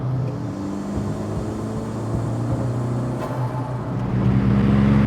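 A turbocharged Maruti Zen with about 195 horsepower revs and accelerates, a loud steady drone with harmonic whine that builds stronger toward the end.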